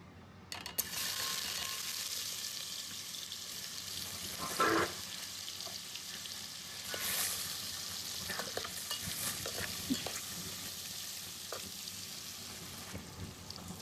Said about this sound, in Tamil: நெய் நல்லா சூடானதுக்கு அப்புறம் இந்த பன்னீரை வந்து லைட்டா நெய்ல வறுத்துக்கிட்டாக்கா